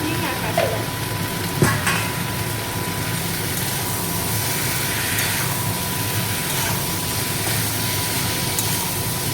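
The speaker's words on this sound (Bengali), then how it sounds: "তরকারিটা একটু কষিয়ে নিচ্ছি।" Curry with a ginger, cumin and coriander paste, tempered with asafoetida and green chilli, sautés in a pan with a continuous close sizzle, a few scraping stirs and a steady background hum.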